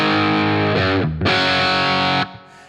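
Heavily distorted electric guitar through a Friedman BE100 Deluxe amp on its high-gain channel, loud sustained chords with a brief choked gap, then a dense wall of crunch that cuts off and fades into a low hum, no voices.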